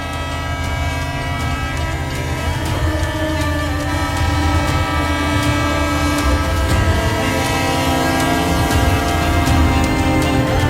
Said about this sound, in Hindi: now the train is here